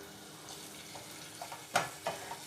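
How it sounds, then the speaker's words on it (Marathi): Grated green cucumber cooked in a pan while making turmeric-leaf patolya gives a faint, quiet sizzle with a few soft stirring clanks and scrapes, one louder knock of utensil on pan. "हा काकडीचा किस जरा परतून घ्यायचा आहे"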